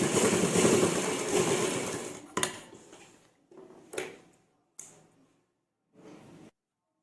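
A sewing machine runs a steady stitch over elastic and buckram on a ladies' pant for about two seconds, then stops and starts in several short, fairly quiet bursts separated by silence.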